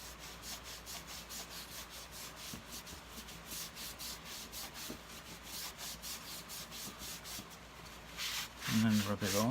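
Cloth rubbing polish off the plastic tools of a Hoover Turbopower 2 U2090 vacuum cleaner, a steady rhythmic swishing scrub at close range that grows louder near the end.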